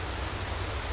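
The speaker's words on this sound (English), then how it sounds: "And it's raining." Rain falls in the Motorsport Manager racing game, a steady broadband hiss of downpour that stays even and fairly loud for a moment.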